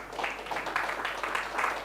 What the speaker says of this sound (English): So please give a big round of applause for the prizes provided today.